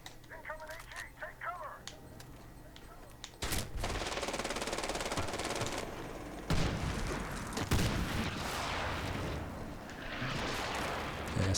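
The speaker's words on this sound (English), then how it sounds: "Airstrikes again." Airstrike explosions in the Xbox 360 game Medal of Honor: Warfighter, loud sudden blasts that cut in after quieter gunfire, then rolling bursts of explosion and fire continuing to the end, with a voice speaking early on.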